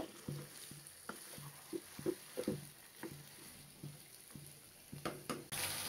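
Chicken pieces fry with onions over a high flame, sizzling steadily while a utensil scrapes and stirs the pan in a regular rhythm of soft knocks.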